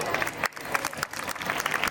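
An audience at a university fest on a women's college campus breaks into steady applause, a dense wash of many hands clapping that stays loud and continuous throughout.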